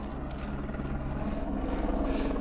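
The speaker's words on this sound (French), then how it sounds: "Ça n'arrête pas les rapatriements hélicoptères." A rescue helicopter flies near a trail on the route to Everest, its rotor making a steady, fairly distant throbbing drone that builds slightly louder as it goes.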